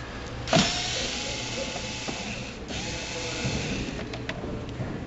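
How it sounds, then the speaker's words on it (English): A cordless power tool drives out the last screw near a vehicle's fuel tank area during a fuel tank filter replacement, giving a sharp start followed by a steady whirring buzz with a couple of short bursts, fairly close. "I'm going to go ahead and remove the last screw here."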